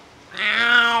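A single cat lets out a loud, drawn-out meow close by, rising sharply after a moment of near silence.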